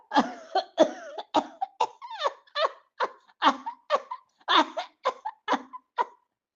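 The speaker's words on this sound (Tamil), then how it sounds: "இருமல் தாங்கவே முடியலைங்க ஐயா!" Someone coughs repeatedly in a long run of sharp, hacking bursts, close and loud, with brief pauses between coughs.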